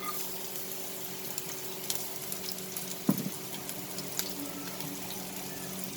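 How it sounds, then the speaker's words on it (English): Garlic and green chili sizzling in hot oil while making an okra and prawn dish, a steady soft crackling fry with a brief louder splutter midway, close and alone without talk. "in the same oil I will add the garlic and the green chili"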